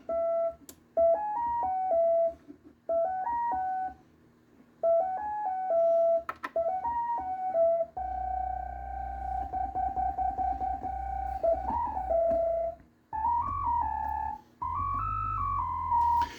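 Short bursts of buzzy tones from a Moog Grandmother analog synthesizer with two synced oscillators in a repeating melodic pattern, then longer sustained notes with a heavier low rumble joining in.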